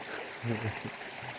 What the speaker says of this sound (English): But the creek's running good.